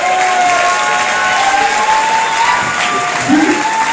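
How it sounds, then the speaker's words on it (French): A packed conference-debate audience claps for several seconds, a dense, loud, even wash of applause with a few voices faintly audible beneath it. "vous pouvez vous applaudir vous-même tous d'être venus ici"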